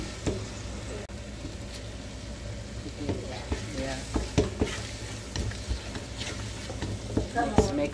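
A spoon scrapes and stirs chicken biryani in a pan over a low background sizzle, with repeated irregular clinks and scrapes growing busier toward the end.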